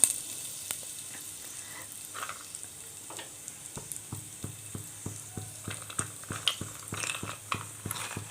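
Cumin, mustard seeds and curry leaves sizzle in hot oil, a quiet steady frying hiss dotted with sharp pops and crackles as the seeds burst, closely heard.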